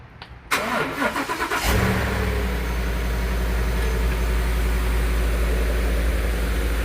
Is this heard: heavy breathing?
no